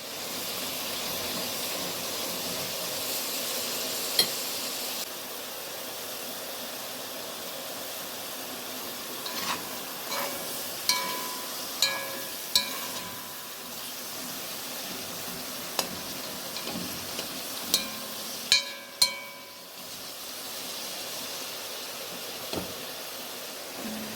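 Onions fry in a pan for a quick meat-and-potato stew, with a steady soft sizzle and hiss. Scattered clinks and scrapes of a utensil stirring break in now and then.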